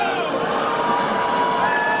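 A rally crowd at a Bernie Sanders campaign event in Ann Arbor boos in a dense, sustained wash of many voices that stays loud and steady throughout.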